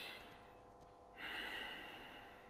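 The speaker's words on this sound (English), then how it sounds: "What we actually trying to do is called the silk breathing, because it's as thin as a silk line." A slow, thin Tai Chi silk breath drawn through the nose, heard close to the microphone as one soft, airy breath that swells partway through.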